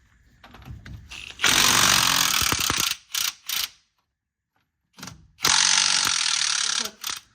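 A worn socket on a ratchet works loose the two bottom bolts of a car's shock absorber strut, with close, loud bursts of clicking and grinding separated by short pauses and silence.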